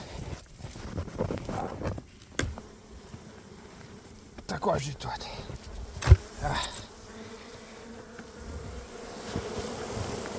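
Honeybees hum in a low, steady drone inside a two-box hive in winter, with occasional knocks and rustles nearby and someone speaking briefly.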